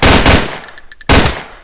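A UMP submachine gun fires in a video game: a loud, close burst of rapid shots, a short pause filled with faint metallic clicks, then another burst.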